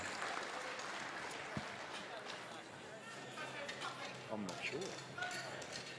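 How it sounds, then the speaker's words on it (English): Crowd applause for student sheep shearers at the Golden Shears student shearing challenge, sustained clapping from a large audience with scattered cheers and voices across the whole stretch. "Give them a round of applause, a big one."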